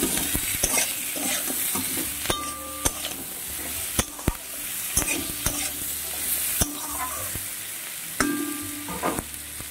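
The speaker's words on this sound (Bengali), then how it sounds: "দিয়ে একটু নাড়িয়ে চাড়িয়ে নেব" A spatula stirs small mourola fish with salt and turmeric in a hot frying pan, sharp scraping knocks against the metal at irregular intervals over a continuous sizzle, close and fairly loud.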